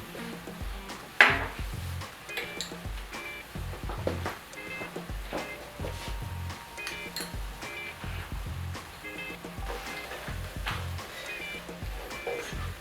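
Food is stirred and mixed in a dish in a kitchen, with repeated clinks and scrapes of a utensil against the bowl in an uneven rhythm, close and moderately loud, and faint speech in the background.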